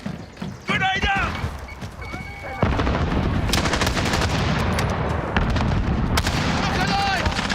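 Video game combat with a heavy grenade blast, then dense continuous gunfire and clattering effects, loud and close, with voices talking over it.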